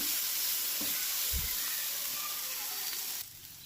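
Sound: soy sauce added to frying rice, sizzling

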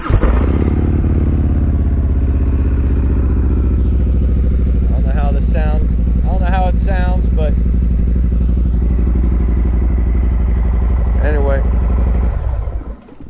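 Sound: motorcycle engine starting up and idling

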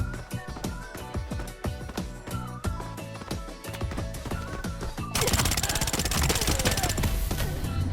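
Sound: gunfire in video game Arena Breakout

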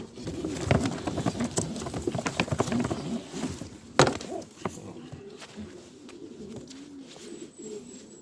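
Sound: pigeons cooing

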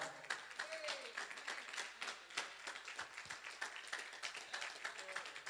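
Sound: hand clapping applause

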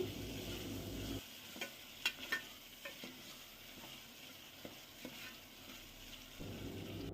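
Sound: frying masala with tomatoes and green chillies for country chicken curry

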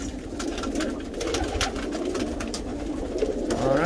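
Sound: Tippler pigeons cooing

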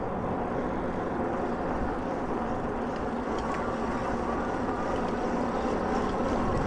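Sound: HiBoy EX6 electric bike motor while riding

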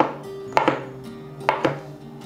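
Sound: knife chopping shiitake mushrooms into small dice

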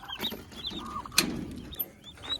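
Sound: turkey chicks released on farm

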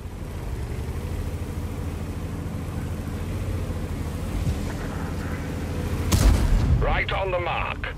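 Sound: tank cannon shots in World of Tanks video game

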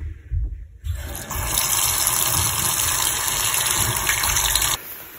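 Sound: water running from a turned-on tap faucet

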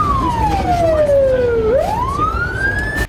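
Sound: emergency rescue vehicle siren

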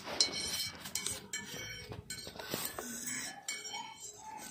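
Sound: mixing ingredients in a bowl with a spoon

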